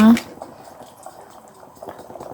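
Bok choy vegetable soup simmers in a pot, a soft, steady bubbling that stays faint and low throughout after a brief sharper sound at the very start.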